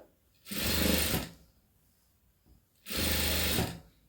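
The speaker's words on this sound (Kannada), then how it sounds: "ಈ ಥರ ಹೊಲಿಗೆ ಹಾಕಿ ಇದಾದಮೇಲೆ ಇದನ್ನು ಓಪನ್ ಮಾಡಿ" A sewing machine stitches a dots and cross border trim in two separate runs of steady, fast mechanical whirring, each lasting under a second, close up with quiet pauses between them.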